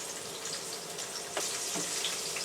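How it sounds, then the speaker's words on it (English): Food frying in hot oil in a home kitchen makes a steady soft sizzle and crackle, with a brief louder hiss as more food drops into the pan. "Into the hot oil."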